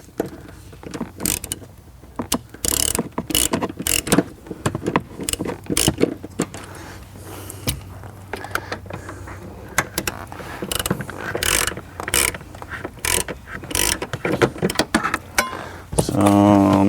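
A ratchet clicks in rapid bursts while bolts are tightened during installation of BMW Performance Recaro Sportster CS seats in an E92 M3, close and sharp with short pauses between strokes.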